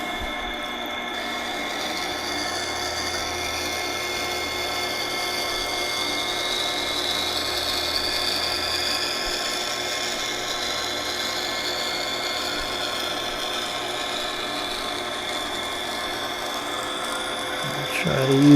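A grinding wheel sharpens a knife blade edge in a steady, continuous abrasive whir and hiss that holds for the full length, with a brief scrape and clatter as the blade comes off at the end.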